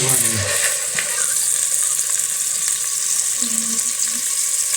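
Chicken pieces fry in a little oil for an Arabic chicken mandi, giving a continuous bright sizzle and crackle that stays steady throughout, with faint background clatter.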